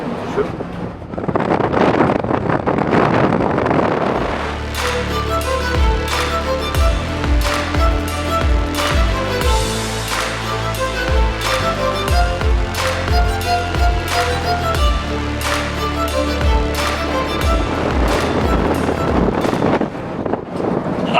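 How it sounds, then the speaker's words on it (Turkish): Loud, blustery wind at sea roars across the microphone almost continuously, with a churning, rumbling background like a boat moving over water. "Çok rüzgar yine. Aşırı rüzgar."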